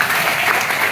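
A church congregation at a Mass claps together in a short, dense burst of applause, close and full.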